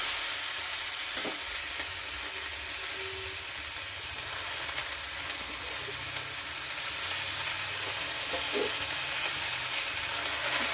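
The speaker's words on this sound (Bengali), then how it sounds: "এবার এর মধ্যে বাঁধাকপি আর শাকটা তুলে দেবো।" Steady frying sizzle of cabbage and leafy greens in a pan with occasional stirring scrapes, fairly close and continuous, with no talking.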